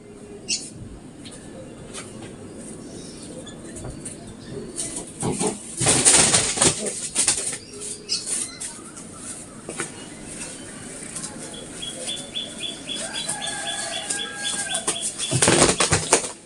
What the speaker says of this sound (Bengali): দুটো পায়রা একসাথে দেখাচ্ছি বন্ধুরা দেখে নাও